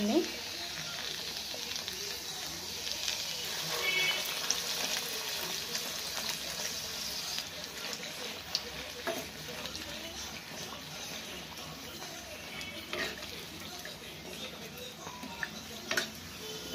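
Kachuri dough balls deep-fry in hot oil, making a steady, fairly quiet sizzling hiss that carries through the whole stretch without a break.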